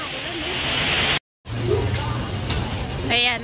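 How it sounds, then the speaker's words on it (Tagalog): Steady heavy rain roars throughout in Singapore, broken by a brief moment of silence, with faint voices audible in the background. "Oh, lakas ng ulan, eh."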